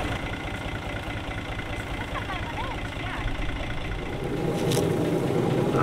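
A farm tractor engine runs steadily through potato harvesting in a rural village, a continuous low rumble that grows slightly louder near the end, with people talking over it.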